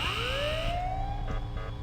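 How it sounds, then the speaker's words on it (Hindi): An alarm in the video game Ice Scream 8 wails with a rising siren-like sweep that climbs and holds, loud and steady over a low game background hum. "जैसे मेरे को देखता है ना ये अलार्म बजा देता है"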